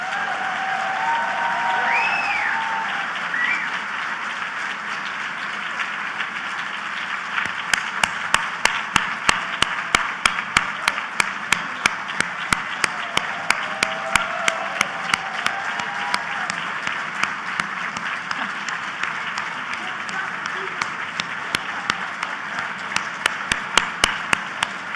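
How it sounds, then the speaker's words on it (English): An audience at a convention welcome dinner applauding, a dense, sustained wash of many hands clapping that swells after a few seconds and carries on steadily, with faint voices early on. "I know you already applauded, but let's just do it one more time."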